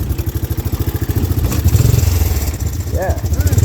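A 1986 Honda ATC250ES three-wheeler engine runs close by with a steady, pulsing putter throughout, and a voice speaks briefly over it.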